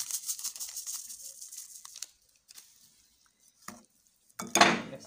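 Stirring a curdled milk and fruit salad mixture in a bowl gives soft clinking and scraping strokes, then pauses and a louder clatter near the end, close and alone without voices.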